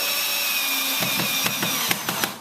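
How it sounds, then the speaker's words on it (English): A power drill whirs as it drives a screw into a countersunk hole in a wooden lap joint frame, with a steady motor whine broken by several sharp clicks as the screw tightens. "and you can drill it in"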